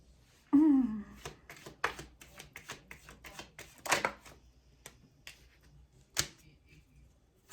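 Cards of a tarot deck being shuffled by hand, giving a run of crisp, irregular riffling snaps and soft taps close by, with a louder flick near the start and scattered sharper clicks after.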